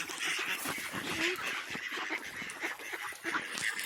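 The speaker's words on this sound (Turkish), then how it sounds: "gördüğünüz gibi tüm ördeklerimiz tavuklarımız burada" A farm flock of ducks quacks continuously and overlapping, a dense, busy chorus close by with geese-like honks mixed in.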